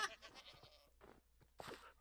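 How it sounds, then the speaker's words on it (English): Goat bleats in the video game Minecraft, a few short wavering bleats near and fairly faint, with a brief pause between calls and a final louder bleat at the end. "Did that goat just sing?"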